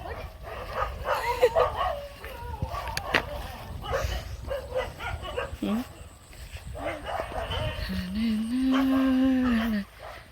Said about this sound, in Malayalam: എല്ലാ പട്ടികളും കൂടെ ഒരുമിച്ചാണോ കുറിക്കുന്നത്